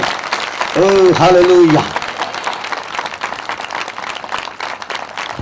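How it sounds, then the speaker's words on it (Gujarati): A church congregation in Vajharda, Songadh, Tapi claps steadily and densely through the whole stretch. Early on, a voice briefly calls out over the rhythmic hand claps. "જોરદાર તાળી પાડીએ"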